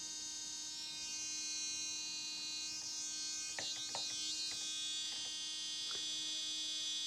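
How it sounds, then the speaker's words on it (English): A small Melody Susie SM330G electric nail drill (e-file) at speed setting 32 whirs with a steady high-pitched hum and buzz, faint and constant, with a few brief scratchy touches near the end. "So that is the sound of the actual e-file"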